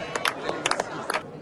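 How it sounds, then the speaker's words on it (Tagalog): Crowd waiting for smoke in St. Peter's Square, with several short bursts of clapping rising over a steady murmur of voices at a distance. "Habang naghihintay ng usok, ilang beses na pumapalakpak ang mga nag-aabang"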